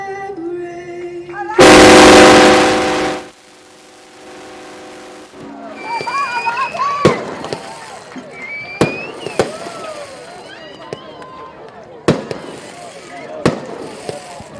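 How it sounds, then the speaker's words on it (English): Fireworks at a high school football game launch and pop after a loud opening blast, sharp cracks landing every second or two over a whistling, crowd-filled background, some near and some farther off. "So now the fireworks are going off"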